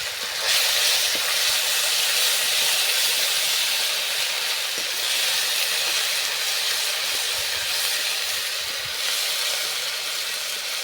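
Ginger garlic paste hisses in hot oil with fenugreek leaves and nigella seeds, a loud, continuous, close-up sizzle that holds steady throughout with no talking.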